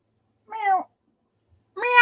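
A cat gives two short meows about a second apart, close and clear against silence.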